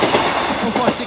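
A passenger train rumbles loudly past Boultham level crossing, close by, with a brief rhythmic clatter of wheels over the rails.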